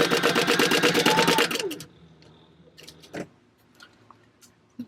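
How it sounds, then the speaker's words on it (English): A sewing machine stitches a bag lining in a rapid, steady run of mechanical ticking for about a second and a half. It stops abruptly and is followed by scattered faint clicks and handling noises. "we're going to take all 3 of those to the sewing machine"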